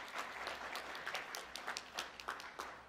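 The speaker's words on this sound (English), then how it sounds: "Let's give that group a round of applause." Steady applause from an audience, many hands clapping at once in a dense, crackling wash that holds level throughout with no voices over it.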